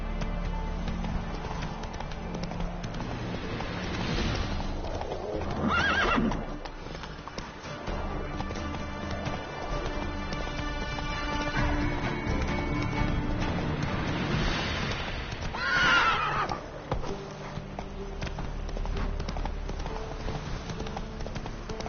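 A horse runs in The Witcher 3 with a continuous rumble of hooves under a dense game soundscape, and two louder whooshing swells stand out midway and near the end.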